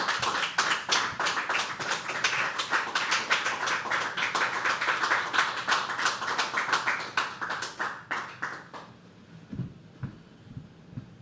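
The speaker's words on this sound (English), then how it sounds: "It wouldn't have hurt if you guys would have kept clapping till I came up." Audience applause at a live poetry open mic at The Habitat: a dense patter of hand claps runs steadily for about eight seconds, then thins out and stops, leaving a few soft low thumps.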